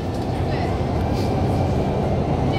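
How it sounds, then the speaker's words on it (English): Interior of a moving, air-conditioned train in Guangzhou, with a continuous low rumble and rattle of the carriage on the rails and voices talking over it. "On the train in Guangzhou."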